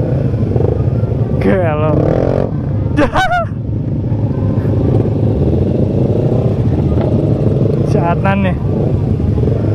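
A Yamaha Jupiter MX 135 motorcycle engine hums steadily and loudly while riding, its drone running under brief speech and sharp honks from nearby traffic.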